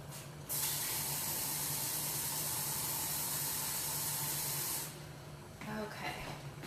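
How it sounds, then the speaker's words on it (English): Water pours steadily into a pot of arroz con leche rice pudding with brown raisins, a smooth hiss for several seconds that cuts off and leaves softer kitchen noise. "I definitely need more water in here."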